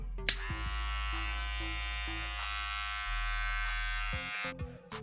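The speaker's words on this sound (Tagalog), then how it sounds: "let's make a run test of this clipper" A steady Gamma+ electric hair clipper buzzes continuously at close range at about 6,500 RPM, with a faint click at the start and a slight shift in pitch midway before it switches off.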